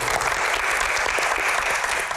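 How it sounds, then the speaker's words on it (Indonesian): Audience applause at a youth political Q&A event, a dense, loud, continuous wash of clapping from a crowd, steady throughout with no talk. "Widih, tepuk tangan dulu dong."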